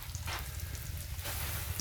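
Catfish pieces fry in a pan of hot oil with a dense, steady sizzle and sputter, close up and fairly loud, with brief louder bursts of popping.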